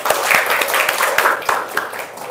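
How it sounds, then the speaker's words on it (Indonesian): A class clapping hands together in a classroom before an English lesson, a short burst of quick, uneven claps close by. "Oke, tepuk tangan."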